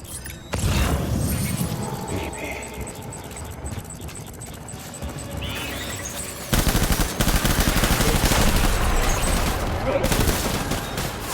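Sustained automatic gunfire in the video game Death Stranding, a dense rattling fusillade that starts abruptly and rolls on throughout, growing heavier and louder in the second half with booms mixed in.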